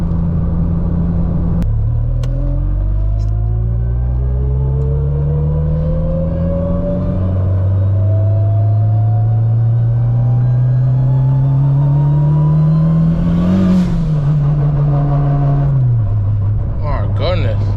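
A 600hp turbocharged Honda Civic revs and accelerates hard through rising gears, a loud throaty roar climbing in pitch with brief drops between shifts, close by.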